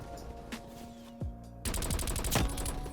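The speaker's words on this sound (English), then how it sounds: "We are going to be using this beautiful XM4 assault rifle" XM4 assault rifle fire in Call of Duty Black Ops Cold War, with a few sparse shots early on giving way to a loud rapid burst of automatic fire over game sounds.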